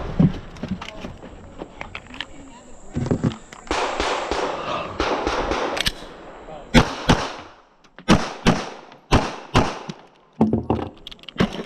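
Pistol shots at an IDPA regional championship shooting stage: sharp, loud, close reports fired in quick strings and pairs with short pauses between them, plus handling noise in the gaps.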